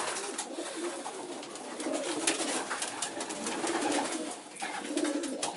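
Racing pigeon of Janssen lineage cooing while held in a hand, close repeated throaty coos in a soft rolling rhythm with faint handling rustle.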